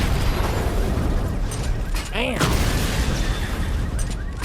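Missile barrage explosions in Batman: Arkham Knight, a loud booming burst with a swooping whine amid continuous rumbling game noise, with a voice talking over it.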